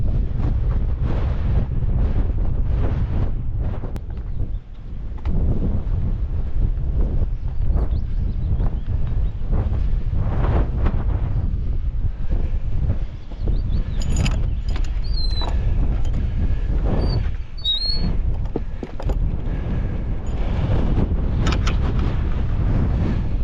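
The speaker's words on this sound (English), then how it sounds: "it's a little bit breezy. I have to hang on to my cap" Strong wind buffets a breezy hillside on a walk near Darwen Tower and Stepback Waterfall, a constant loud roar of wind noise across the microphone with brief dips and no speech.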